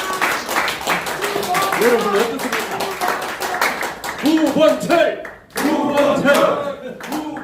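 Audience applause and clapping at a political campaign office opening event in Korea, a sustained crowd clap running under a man's amplified speech, dipping briefly then resuming.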